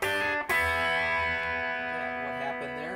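An electric guitar plays a hybrid-picked blues turnaround lick with double stops over a ringing pedal tone on A, sustained and close, with a fresh pick attack about half a second in.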